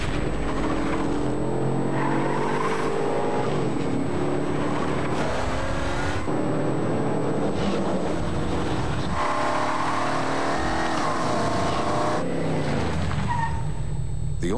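A BMW X5 SUV drives in a 2007 TV commercial, heard as loud engine revving and tyre noise under a dense, continuous music-heavy soundtrack.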